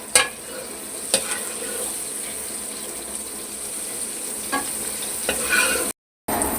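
Potatoes sizzle in a pan for a chicken jalfrezi, with occasional scraping and clinking of a utensil, a few sharp taps standing out over the steady frying hiss.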